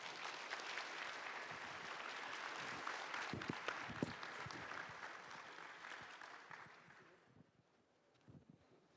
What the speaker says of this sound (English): please give our panelists another round of applause